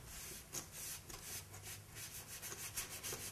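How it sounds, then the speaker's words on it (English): Reddish brown stain is rubbed by hand across a sheetrock wall in quick repeated strokes, a soft, faint scrubbing rhythm with no voices. "Now I'm going to rub this whole surface right here with a Carrington"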